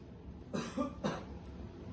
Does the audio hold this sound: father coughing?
yes